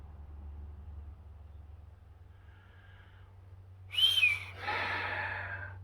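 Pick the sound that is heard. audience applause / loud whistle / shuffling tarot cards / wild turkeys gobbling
loud whistle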